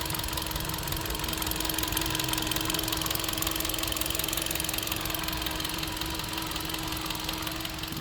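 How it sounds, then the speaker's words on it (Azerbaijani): A 2015 Hyundai Accent with a 1.4 VVT engine idling slightly noisily: a steady, close mechanical hum with a light, even ticking knock running throughout, alone without voices. "Motor biraz səsli işləyir"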